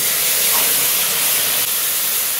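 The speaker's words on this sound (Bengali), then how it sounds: "এবার এই তেলের উপরে আমি দেব একটু কালো জিরে ফোড়ন, একটা তেজপাতা" Nigella seeds and a bay leaf tempering in hot oil for a Bengali hilsa fish curry, giving a loud, close, continuous sizzling hiss with no voices over it.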